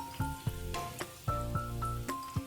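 Cashews and raisins fry in ghee, a soft, steady sizzle with light stirring clicks recurring every half second or so.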